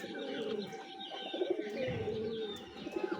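Pet pigeons coo softly and repeatedly close by at a home on an overcast morning, with a few chirps mixed into steady outdoor background noise.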